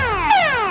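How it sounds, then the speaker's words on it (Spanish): A facial thermometer's fever alarm, set off by a glass of hot water held near it, sounds a loud, steady electronic tone with descending harmonic sweeps, close and alone for under a second. "Produce una alarma, un aviso"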